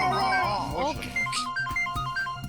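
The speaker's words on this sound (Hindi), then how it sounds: "एसीपी साहब का फोन" A phone rings in a tense police-drama scene with a repeating electronic ringtone of short, bright tones following a burst of voices and background music.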